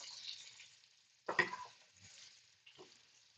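Beef short ribs brown quietly in a hot pan with a soft, faint sizzle. A sharp clatter of meat or utensil lands midway, then a fainter bump follows.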